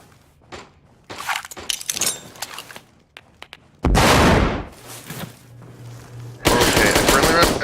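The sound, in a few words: gunfire in a video game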